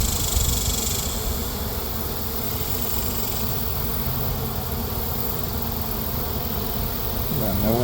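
Bees drone steadily around neglected hives on a remote property, a close, continuous buzzing hum with no break throughout.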